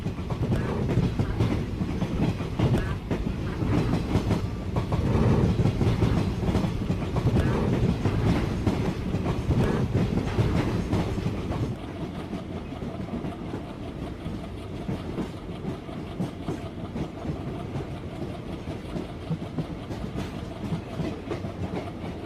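A Rewa–Rajkot Express train crossing a bridge rumbles steadily with rhythmic clickety-clack of wheels over rail joints, heard from inside a general coach, loud and close at first, then quieter and more even.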